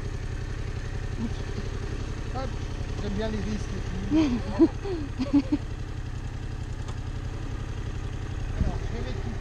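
A motorcycle engine idles steadily at close range throughout, a low continuous rumble with a few brief throttle blips, while someone talks over it.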